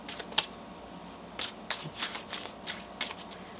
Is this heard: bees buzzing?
no